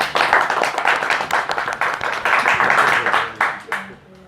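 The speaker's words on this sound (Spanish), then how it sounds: "recibirle con un aplauso" A lecture-hall audience claps to welcome guest Fernando Blanco at a book presentation talk: dense, close, sustained clapping for about four seconds that thins out and fades at the end.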